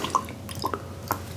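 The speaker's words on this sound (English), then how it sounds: "splashes there of your bitters." Aromatic bitters splashed in a few small, quick drips onto sugar cubes in the bottom of a glass while making an Old Fashioned; soft, close wet taps spaced apart with quiet pauses between.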